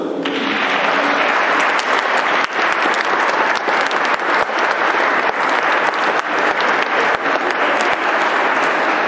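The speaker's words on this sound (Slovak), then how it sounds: "zaslúžite si veľký potlesk" Loud, sustained applause from a full audience at a nativity celebration in Pruské, honoring the mothers who performed, a dense continuous roar of clapping with occasional sharper individual claps standing out.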